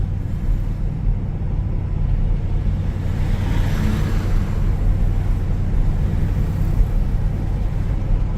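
A clean 1975 Oldsmobile Cutlass with about 9,400 original miles cruises along, giving a steady, loud low engine and road rumble inside the cabin with no breaks and no talking.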